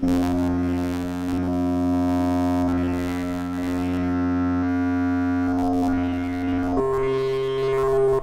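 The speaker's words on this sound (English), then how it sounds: "this is the filter sweep which is here sampled in" A synthesiser filter sweep sampled from a Korg MS-20 drones as a sustained tone whose bright overtones slowly open and close, with a pitch change near the end.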